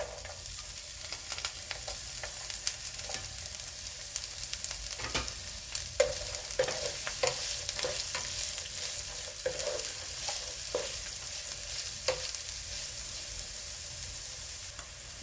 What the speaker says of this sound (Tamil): வெங்காயம், இஞ்சி பூண்டு எல்லாம் நல்லா வதங்கிடுச்சு